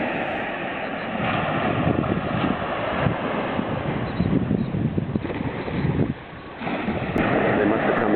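Waves rolling in at Varadero beach, Cuba, with a continuous rushing surge and wind buffeting the microphone; the roar swells, briefly dips, then builds again.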